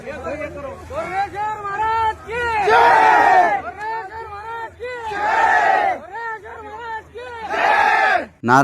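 A crowd chants religious slogans in loud call-and-response bursts, each a long drawn-out unified shout separated by brief quieter gaps where a single voice leads.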